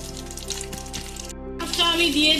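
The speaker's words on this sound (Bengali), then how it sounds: "তেলটা আমার গরম হয়ে গেছে। আমি আগে পেঁয়াজগুলো দিয়ে দিচ্ছি।" Onions cut into large pieces hitting hot oil in a pan while cooking chicken, a steady sizzle that swells louder near the end, heard beneath faint background sounds.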